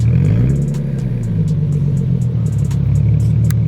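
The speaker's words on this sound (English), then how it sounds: "right now I'm just kind of cruising, going 40, under 2 RPMs" Car with a newly installed aftermarket exhaust cruising at about 40 mph under 2,000 rpm, a loud, steady low engine drone and exhaust rumble heard from inside the cabin with light road clatter.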